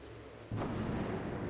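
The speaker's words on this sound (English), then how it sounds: "And it's raining." Steady rain with rumbling thunder in the video game Skyrim, a sudden loud wash of downpour and low rolling thunder starting partway through and continuing evenly to the end.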